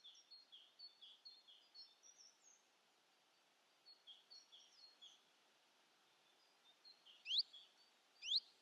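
Birds singing at first light in the countryside of Aljezares, a scatter of short high chirps and trills in repeated bursts, with sharper nearer calls near the end over a quiet background.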